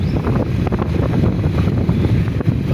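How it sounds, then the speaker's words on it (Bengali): A motorbike ridden slowly on a cold winter ride home, with heavy, continuous wind buffeting the microphone and a low, steady rumble underneath throughout. "আমরা আস্তে আস্তে বাইকটি চালিয়ে গেলেছি"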